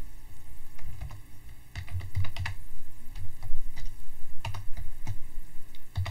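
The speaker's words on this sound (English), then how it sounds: "I'd go ahead and start typing." Steady typing on a computer keyboard, bursts of clicking keystrokes close up with short pauses between.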